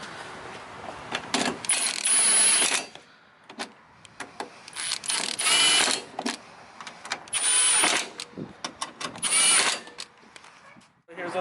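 A power tool whirs in repeated bursts of a few seconds each while aftermarket headlights are tightened on a 2007 Subaru Impreza, with ratcheting clicks and quieter handling sounds between bursts.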